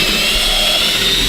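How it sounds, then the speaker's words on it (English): A power drill spins at high speed boring a pilot hole into the top of a wooden stick, a loud steady whine held throughout the short moment. "that's just going to be more or less our pilot hole or drilling hole"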